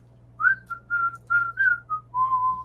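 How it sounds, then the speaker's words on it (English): People whistling at an afterparty in Malibu, a run of several short clear whistled notes followed by one longer held tone, close and fairly loud over a low steady background hum, with no talking. "I actually wouldn't mind a whistle off right now."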